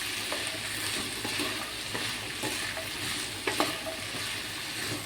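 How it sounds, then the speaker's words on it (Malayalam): Green chilli, onion and garlic sauté with salt in a pan, giving a continuous close sizzle broken by light stirring scrapes and a couple of brief clinks. "നമ്മൾക്ക് ഇടയ്ക്ക് എങ്ങനെ ഒന്ന് ഇളക്കി കൊടുത്തിട്ട് ചെറുതായിട്ടൊന്ന് വാട്ടിയെടുക്കാം"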